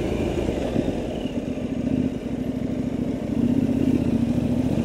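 The KTM Duke 990 motorcycle engine drones in a steady, close hum with a slight rattle, its level rising a little near the end.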